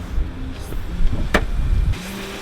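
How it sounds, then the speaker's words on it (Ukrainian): A 2013 KIA Sorento 2.4-litre petrol engine with automatic transmission runs steadily at close range, a low rumbling idle with a brief sharp click or tick partway through. "Двигун працює ідеально."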